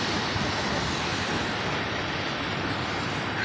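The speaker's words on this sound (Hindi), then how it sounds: "देखिए किस तरह से खतरनाक लहरें चट्टान को" Dangerous sea waves crash against rocks along the shore at Kollam, a continuous loud roaring wash of surf with no break and no voices over it.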